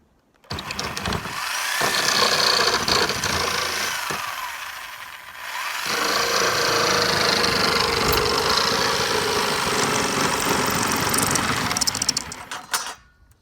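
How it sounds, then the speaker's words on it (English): A Sawzall reciprocating saw cuts wood for a skateboard kicker ramp, a loud, steady buzzing motor with rasping blade strokes, briefly pausing midway, then running again for several seconds before stopping. "Don't know where the jigsaw is right now, but we got this Sawzall."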